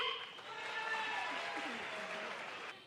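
An audience in a large crowd applauds, a broad wash of clapping that rises quickly and holds steady for a few seconds before tapering, with faint voices mixed in.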